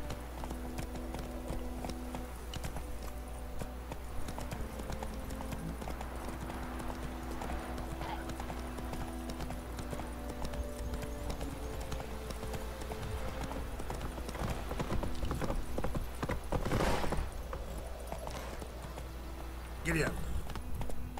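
Horse hooves clip-clop at a steady trot in The Witcher 3, an even rhythm running throughout over a low game ambience, with brief louder bursts near the end.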